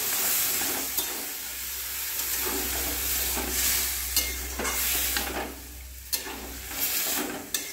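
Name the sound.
stirring kabuli chickpeas in a sizzling pan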